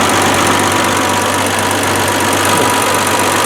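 The engine of a 1971 Triumph TR6 fitted with Weber carburetors idles steadily close by, a loud and even mechanical hum with a low throb and no voices over it.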